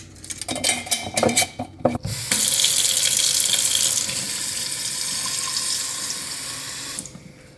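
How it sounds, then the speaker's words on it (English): Water runs from a tap while broccoli seeds are rinsed in a jar, with brief clinks and rustling at first, then a steady, close rush of flowing water before it cuts off near the end. "I'm going to rinse this in water and soak them in water for about 4 hours."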